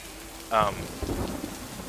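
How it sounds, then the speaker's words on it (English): Stormy weather in the video game Lake: a sudden crack of thunder rumbles briefly over a faint, steady patter of rain, quiet and without speech. "The storm is here."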